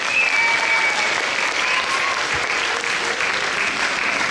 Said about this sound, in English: can we have a round of applause for our creative team?